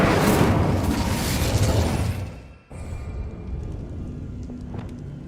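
Incendio fire spell cast in Hogwarts Legacy, a loud whooshing burst of flame that drops off sharply partway through, leaving quieter crackling and game ambience.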